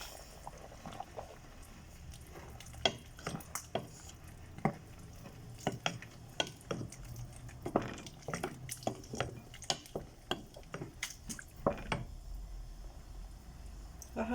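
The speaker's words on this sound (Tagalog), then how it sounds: "Halo lang ng halo." Biryani rice stirred in a pot with masala powder, giving soft scraping and clinking strokes at an irregular rhythm, fairly quiet and close, with no talking.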